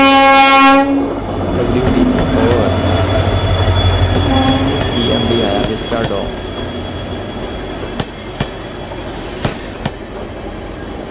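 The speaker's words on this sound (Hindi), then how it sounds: "और जो इसकी दूसरा पेयर है उससे हमारी क्रॉसिंग होने वाली है। अच्छा डीजल रूट है" A diesel express train on the Yesvantpur–Bangalore route, in a ghat section, sounds a loud horn blast, then passes close with heavy rumbling wagons, rattling wheels and clanks toward the end.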